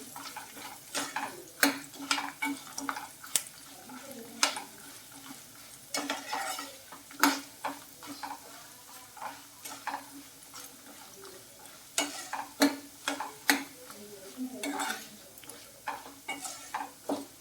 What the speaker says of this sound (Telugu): జీడిపప్పును కూడా యాడ్ చేసుకోండి ఇవి కూడా కొంచెం ఫ్రై చేసుకొని